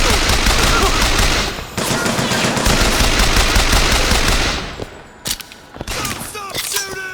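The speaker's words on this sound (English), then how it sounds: "Stop shooting!" Sustained rapid automatic gunfire from the shooter game BioShock Infinite, loud and dense for several seconds, then thinning into scattered single shots and bursts with game effects.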